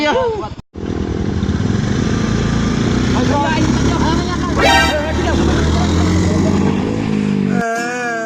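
A stalled or sputtering motorcycle engine, loud and close, running roughly through most of the stretch with a brief cutout near the start, while several people talk and shout over it.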